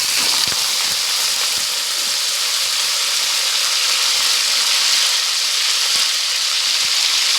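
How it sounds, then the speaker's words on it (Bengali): Malabar spinach stems and potato pieces fry in hot oil, giving a steady, close broadband sizzle with occasional small crackles and pops, heard alone without talk. "এবার আমি এগুলো ভেজে নেব।"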